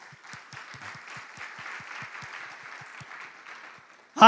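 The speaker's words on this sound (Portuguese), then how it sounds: "eu peço uma salva de palmas para eles" An audience at a Christian conference applauds UN peace personnel with soft, steady clapping and faint regular thumps, dying away before a loud voice cuts in at the very end.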